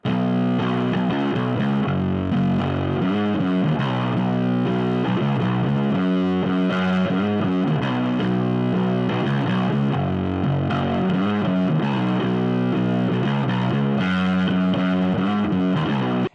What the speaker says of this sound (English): Going into the distortion mode now